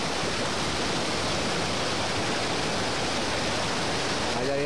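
A fast-flowing river with a strong current rushes steadily, a dense, even roar of water close by with no breaks or changes in level.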